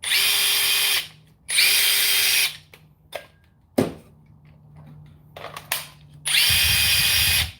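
Cordless DeWalt, Milwaukee and Metabo drills are triggered in turn, producing short high-pitched whirring bursts of about a second each, separated by clicks and handling noise, loud and close.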